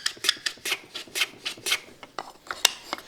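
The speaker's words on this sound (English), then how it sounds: "Cut a fairly heavy chamfer on this end." A hand tool rasps across the end of a wooden box, cutting a heavy chamfer in quick rhythmic strokes, about a dozen short scraping passes, close and clear with no voices.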